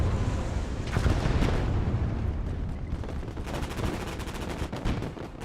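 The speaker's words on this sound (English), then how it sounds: "It's definitely coming from that tank thing back there" Battlefield gunfire and explosions from a tank in the WWII strategy game Gates of Hell: Ostfront, Finland campaign, a dense continuous roar of shots and blasts with sharp cracks throughout.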